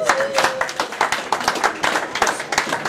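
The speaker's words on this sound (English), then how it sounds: "Let's give him a round of applause." A small crowd at a resort event claps in a quick, uneven patter for a few seconds, fairly close, with a brief voice underneath.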